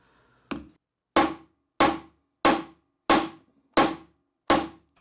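A 3D printed dead blow hammer strikes nail heads seven times in an even rhythm, each hit a sharp, loud, close knock that dies away quickly, with silence between blows.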